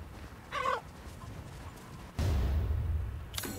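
Chickens cluck in the Resident Evil horror video game. A short burst of clucking comes first, then a louder rumble of gameplay noise and a sharp sound near the end, with no talk.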